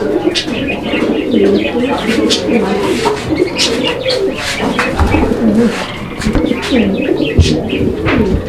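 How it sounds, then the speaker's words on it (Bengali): Several racing and fancy pigeons cooing close by in overlapping, rolling calls, with busy bird chatter continuing throughout. "দেখেন ওদের পারফরমেন্স, ডাকের স্টাইলটা কি"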